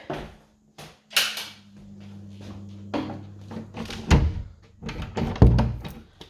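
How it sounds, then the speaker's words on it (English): A bathroom door is opened and closed, giving a few dull thunks and knocks with a low rumbling scrape between them, fairly close and with no talking. "Door open and close is fine."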